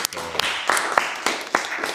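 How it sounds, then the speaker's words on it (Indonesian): A small class of university students claps briefly nearby, the sharp individual claps standing out over a soft room background. "Tepuk tangan buat Nazira dulu"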